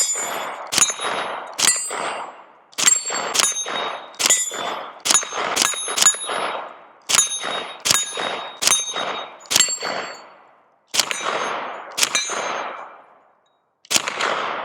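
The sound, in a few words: Ruger LC Carbine 10mm firing shots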